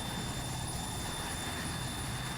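A helicopter in the military video game Arma 3 makes a steady, loud engine and rotor drone that runs unbroken, with no talking over it.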